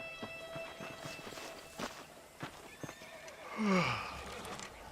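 A horse whinnies loudly in a Red Dead Redemption game scene, a rising neigh near the end, preceded by scattered hoof clip-clops and footsteps; no talking.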